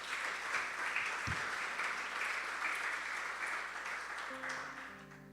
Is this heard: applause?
yes